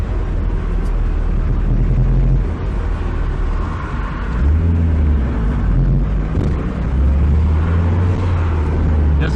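An old Toyota AE86 on a test drive, heard from inside as a low, steady engine drone and road rumble that swells and eases gently, with no talk.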